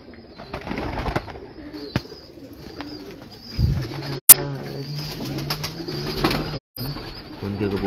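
Pigeons coo on a rooftop in Gujranwala, with repeated low throaty cooing phrases close by, scattered chirps and a brief burst of wing flapping, over a light background hum.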